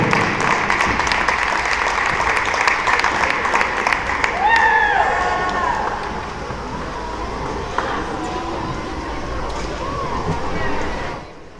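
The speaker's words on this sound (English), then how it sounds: "Let's have one last round of applause for the senior members of the 2022 Elmhurst University women's basketball team." Crowd in a gym applauding the senior players of the 2022 Elmhurst University women's basketball team. The clapping is steady and moderately loud, with crowd noise, some brief squeaks and calls, before tapering off.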